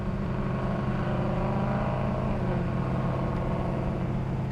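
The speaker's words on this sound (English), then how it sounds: "This motor's set up nicely. It has great acceleration, good power." A 1965 Pontiac GTO engine pulls steadily under acceleration while driving at speed, a dense, continuous low rumble with a throbbing exhaust note and road noise, loud and even throughout with no talk.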